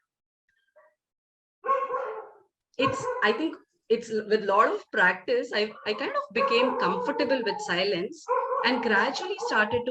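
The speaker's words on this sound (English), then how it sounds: "sorry about the dogs barking there" Dogs bark and yip in the background of a home setting while a person keeps talking over them. The barking is largely buried beneath the steady speech.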